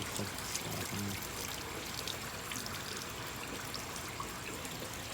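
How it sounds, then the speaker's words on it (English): A 1992 Kohler Kingston flushometer toilet runs its initial flush, giving a steady, continuous rush of pouring water that holds at an even level throughout with no voices. "when you turn on a flushometer, it actually goes through, like, an initial flush, kind of like that"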